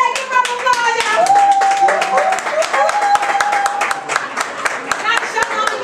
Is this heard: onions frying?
no